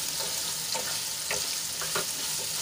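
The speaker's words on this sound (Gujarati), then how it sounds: "દૂધીને સરસ રીતે તેલમાં મિક્સ કરી લઈશું." Cut bottle gourd pieces fry in hot oil while a spoon stirs them, a few scraping strokes rising over a constant close sizzle.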